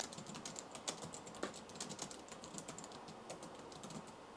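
Fast, steady typing on the keyboard of an old black 2008 MacBook, a dense stream of light plastic key clicks with occasional louder taps, close and without talk.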